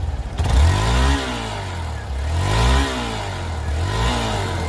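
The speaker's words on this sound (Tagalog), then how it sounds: "So ito na ang kanyang pinaka-exhaust sound oh." A new Hero Xpulse 200 4V 200cc motorcycle engine revs hard several times, the exhaust note rising and falling in loud, close bursts between steadier idling stretches.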